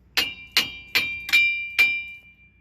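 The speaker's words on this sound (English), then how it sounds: "So we're gonna get a hammer and knock some of that rust loose." Hammer striking a rusted wheel hub on a Lincoln Mark LT, five sharp metallic blows spaced about half a second apart, each leaving a brief ringing tone, close and clear without talk.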